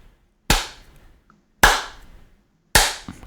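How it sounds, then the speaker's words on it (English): Three sharp hand claps, evenly spaced about a second apart, are close and crisp, each decaying quickly into quiet. They are used to sync the sound, with no talking. "I know you're proud of me, Shane, but you don't gotta just start clapping out of nowhere."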